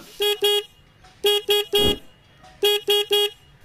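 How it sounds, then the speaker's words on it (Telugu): A 2024 Bajaj Pulsar N160 motorcycle horn beeps in three bursts: two short toots, then three, then three more, loud and close with quiet between. "హార్న్ యొక్క లౌడ్నెస్ అనేది ఒకసారి చెక్ చేద్దాం"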